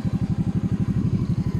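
A motorcycle engine chugs in a fast, steady pulsing rhythm as it climbs a steep, badly broken road, loud and close with no talking.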